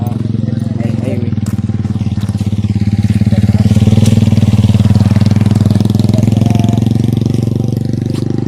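A light motorcycle runs steadily along a highway, its engine droning loud and close with strong wind rush throughout, no pauses.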